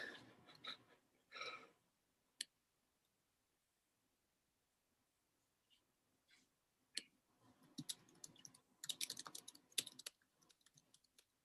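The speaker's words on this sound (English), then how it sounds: "What are you typing over there?" Faint typing on a computer keyboard comes in scattered bursts of soft clicks. Quiet gaps fall between the bursts, and a denser run of rapid keystrokes closes the stretch.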